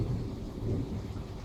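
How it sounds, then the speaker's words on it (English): Thunder rumbles low and continuously beneath steady rainfall outdoors as a storm rolls in, the rumble swelling and easing over a short stretch with no voices. "the rain's starting to come down. And I'm sure you can hear the thunder."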